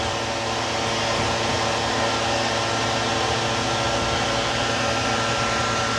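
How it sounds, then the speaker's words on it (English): A hair dryer blows steadily and loudly, close by, drying the head of a Shih Tzu during a full grooming, a continuous broadband whoosh with a faint motor hum and no talking. "So I got another few more minutes to dry her head."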